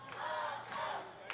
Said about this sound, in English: This crowd trying to will on Blanco Loco